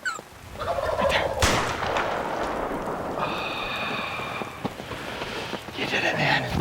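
Single sharp gunshot fired at a wild turkey during a spring hunt in Ontario, loud and close, with turkey gobbling nearby and outdoor ambience around it.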